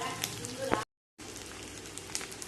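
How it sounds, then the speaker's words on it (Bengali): Eggs fried in oil in a pan until browned, giving a steady, close sizzle with crackling pops, broken by a brief silent gap and soft voices in the background. "ডিমগুলো লাল লাল করে ভেজে নিয়েছি"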